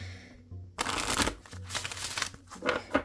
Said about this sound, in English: do one more little shuffle here, and let's pull my card for today